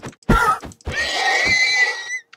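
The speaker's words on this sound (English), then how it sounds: "Hey, look, a horse!" A horse in the Minecraft video game gives a couple of short snorts, then a long, loud, wavering neigh that rises and trails off, heard close and clear with no talk over it.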